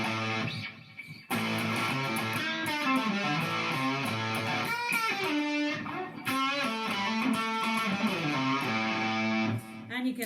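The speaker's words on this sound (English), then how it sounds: "there's also a fuzz on this called the Fat Fuzz, which is the arbitrator fuzz mixed in with an EQ pedal to tame those high ends." Electric guitar on the bridge pickup through a Helix Fat Fuzz model, an Arbitrator-style fuzz with EQ taming the highs, playing thick sustained distorted riffs and bending notes loudly and continuously with brief pauses.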